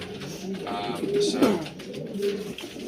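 Racing pigeons in a loft holding mature cocks give low, throaty coos that rise and fall across a few seconds, with faint background murmur.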